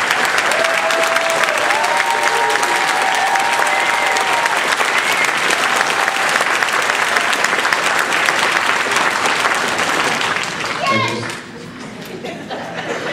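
Loud, steady applause from a Toastmasters conference audience for speech contestants, with scattered cheers and voices mixed in, before the clapping thins out and background chatter takes over near the end.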